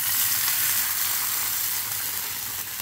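Loud, continuous sizzling and hissing as 1.5 glasses of water are poured into a hot pan, staying strong throughout with a slight easing toward the end.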